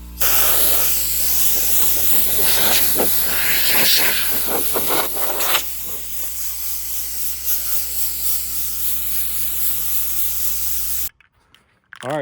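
Aerosol spray can blasting steadily onto the engine of a cheap Fox Body Ford Mustang, a loud continuous hiss with short bursts early on, running about eleven seconds before cutting off abruptly.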